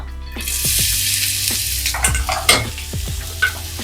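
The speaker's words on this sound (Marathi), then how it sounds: "कांदा आपल्याला लालसर भाजून घ्यायचा" Chopped onion sizzles and fries in a little oil in a pan while being stirred, with steady close-up hiss and a few scraping knocks of the spoon.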